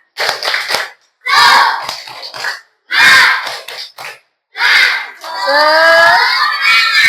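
Schoolchildren in a classroom doing the tepuk semangat chant, four loud bursts of unison clapping and shouted rhythmic chanting separated by brief pauses, ending in a longer cheer.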